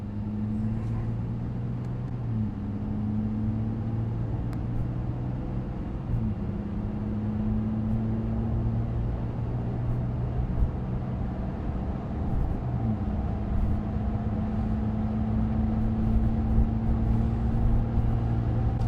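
A Ram 1500 RHO pickup with the high-output Hurricane engine accelerates, giving a steady loud engine drone with harmonic tones that shift as it pulls through gear changes, continuous rumble throughout with no talk.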